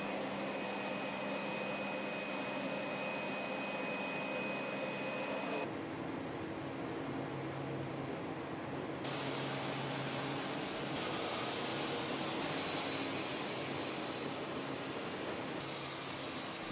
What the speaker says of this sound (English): this is material being wound into the machine